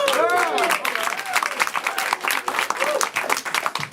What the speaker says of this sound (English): Clap for Dave one more time